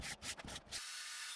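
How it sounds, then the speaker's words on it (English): Brief rough rubbing strokes of sandpaper on scrap hardwood table legs, a few quick back-and-forth passes, then a faint steady hiss. "I gave the legs a good sanding"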